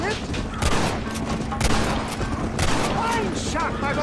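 Gunshots in Red Dead Redemption, a loud rapid volley of cracking shots in bursts across the clip, mixed with voices and background game sound.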